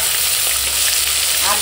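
A ground paste of ginger, garlic and cumin hits hot oil over lightly fried onion and green chilli, giving a loud, close, continuous sizzle and crackle that holds steady throughout.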